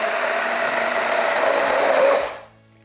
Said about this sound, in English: it's an immersion blender.